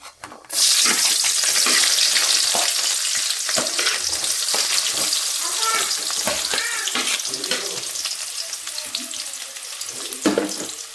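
Onions sizzle loudly in hot oil with mustard seeds, cumin and curry leaves, a dense steady frying hiss with crackles and occasional stirring scrapes, close and continuous throughout, with no talking.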